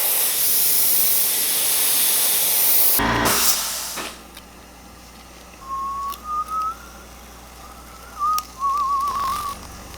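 An airbrush sprays gold paint in a loud, steady hiss that cuts off abruptly, followed by quieter stretches with a few brief whistling tones.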